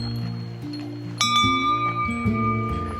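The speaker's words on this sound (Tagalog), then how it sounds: "Ako rin magbe-bear bell." A bear bell jingles while hiking the trails of Kamikochi in the Japan Alps in summer, its bright ringing tones sounding close and repeated over a low background, with no talk.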